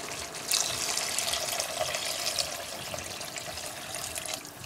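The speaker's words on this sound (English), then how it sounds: "I'm going to put now about 500 ml of water to that" Water is poured steadily into a simmering pan of laksa sauce for barramundi laksa, a continuous close splashing rush that fills the moment alone and eases off slightly toward the end.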